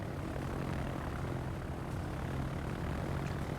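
Propeller engines of torpedo bomber aircraft in the naval combat game World of Warships, a steady dense droning roar that runs without a break, loud and close.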